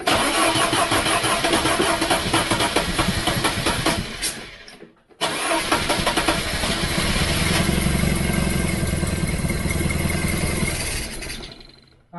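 Ford Pinto engine cranking and firing, a loud continuous rough engine roar that cuts out briefly and then restarts and runs on strongly, close by.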